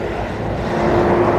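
A very loud truck passes close by on a street during an outdoor walk, its deep, steady engine rumble swelling slightly over the brief moment, mixed with wind noise against the microphone.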